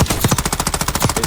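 Automatic gun firing in Black Ops 6, a steady rapid burst of about a dozen evenly spaced shots, loud and close, with no talking over it.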